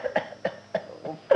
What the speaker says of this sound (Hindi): अरे ये कौन खांस कर बाधा उत्पन्न कर रहा है?